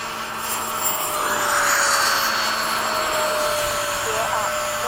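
F/A-18 jets and a MiG-21 flying in formation: a broad, steady jet roar with a slowly shifting pitch that swells and fades as they pass, constant throughout, with voices talking over it.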